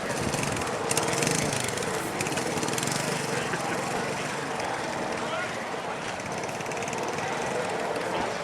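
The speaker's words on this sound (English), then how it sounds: "a nice Honda trail bike going again, XL125" A Honda XL125 trail bike engine runs steadily throughout at an outdoor founders day event, a loud, continuous buzzing drone with rough mechanical clatter and no clear breaks.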